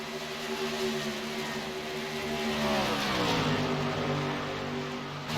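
Race car engines drone steadily during evening qualifying at Kansas, a strong sustained roar whose pitch bends and shifts as a car sweeps past, with no speech over it.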